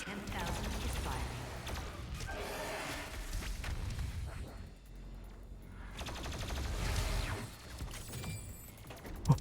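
Heavy weapon fire from the BFG 10,000 in Doom Eternal, dense booming blasts and rumbling bursts layered over a loud, busy mix with some talk, ending in a sharp thump.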